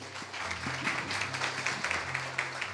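An audience at a tech talk on neural networks claps for a guest speaker, giving a brief burst of steady, moderately loud applause from a room full of people.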